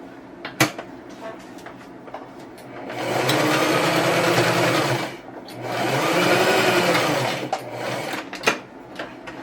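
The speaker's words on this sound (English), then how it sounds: "So I'll have to sew these two together." A sewing machine stitches two fabric pieces of a scrappy Christmas potholder together, running in two steady whirring bursts of a few seconds each, with a short pause between and a few clicks and handling knocks before and after.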